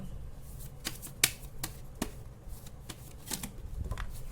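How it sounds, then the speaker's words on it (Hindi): Tarot cards shuffled by hand at close range, giving a quiet run of crisp riffling snaps and flutters at an uneven rhythm, with no talking. "आपके सामने ही शफल कर रही हूँ। ये देखिए, ये है शफल।"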